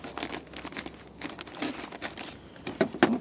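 A small plastic breakfast packet from a reinforced Ukrainian daily ration is torn open, giving close, busy crinkling and rustling with sharper crackles near the end, and no talking.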